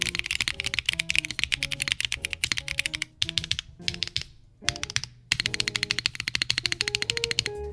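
A QK65v2 keyboard with Invukeys Red Beans switches is typed on in quick, steady keystrokes, close and crisp, with a brief slower patch of isolated presses midway before fast typing resumes; no one speaks.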